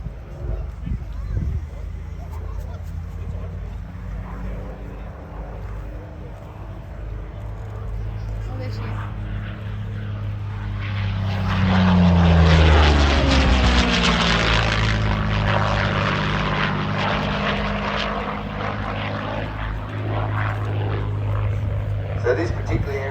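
A 1942 Curtiss Kittyhawk Mk1A propeller fighter, built in Buffalo, New York, flies past at an air display. Its engine drone swells to a loud roaring pass midway, then fades slowly, with a commentator talking throughout.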